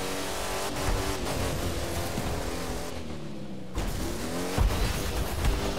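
Car engine droning and revving while driving in The Crew 2 racing game on Xbox One, loud and continuous with a short dip midway and rising revs toward the end, no voices.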